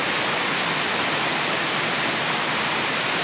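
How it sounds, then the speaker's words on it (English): Small waterfall spilling under the Derby Pond Bridge in Whatcom Falls Park, a loud, steady, close rush of falling water with no talk. "A little waterfall off of the bridge there."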